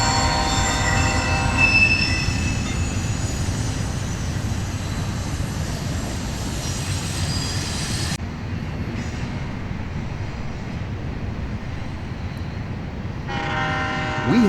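Freight train led by General Electric locomotives with an SD-70M as the fourth unit rolls past close by, its wheels squealing and grinding on the rails continuously, and a horn sounds near the start and again at the end.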